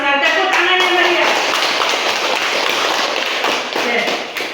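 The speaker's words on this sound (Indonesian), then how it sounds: "Tepuk tangannya Maria." Classroom clapping for a student named Maria during a physics lesson, a dense patter of hands sustained for several seconds with voices mixed in underneath.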